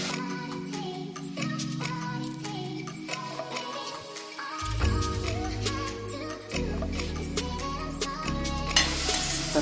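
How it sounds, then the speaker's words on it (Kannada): Oil sizzles steadily in a pan as sambar cooks, with a thick low rumble and scattered clinks of stirring, while a tonal musical layer plays throughout and swells near the end. "ಚೆನ್ನಾಗಿ ಎಣ್ಣೆ ಫ್ರೈ ಆಗ್ತಾ ಇದೆ"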